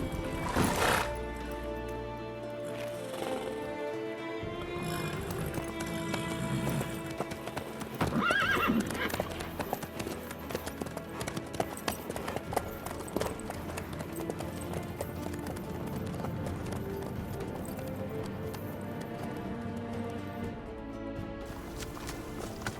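Horse hooves clip-clop in a steady walking rhythm in The Witcher 3 video game, close and clear, with a whinny near the start and faint game music beneath.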